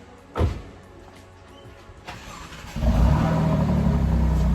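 An Alfa Romeo engine, from a comparison of the 4C, Giulia QV and Maserati MC, cranks with a sharp burst at start, settles to a low idle, then swells into a louder sustained rev held to the end, with no talk.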